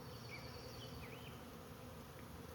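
A honey bee swarm clustered on a tree branch about 30 feet up gives off a faint, steady, continuous buzzing hum that holds evenly throughout, with no voices.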